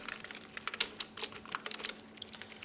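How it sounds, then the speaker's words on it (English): Rapid typing on a computer keyboard while writing HTML code, a run of light, quick key clicks at an uneven pace, faint and close with no talking. "Remove this all and simply type our HTML tags."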